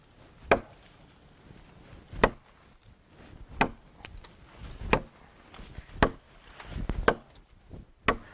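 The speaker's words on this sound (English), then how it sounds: "let's just start chopping on the wood here" Repeated solid chops of a knife into the wood of a tree, about one sharp crack each second, close and crisp with chips flying and quiet gaps in between.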